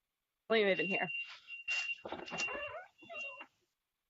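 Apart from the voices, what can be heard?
electronic beeping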